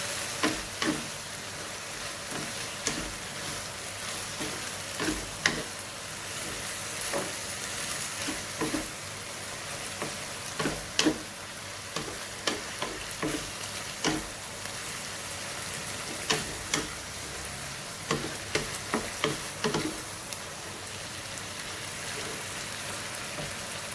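Holy basil stir-fried with minced pork and shrimp and the basil flowers, a steady close sizzle of frying with repeated clattering scrapes and knocks of the spatula against the pan throughout.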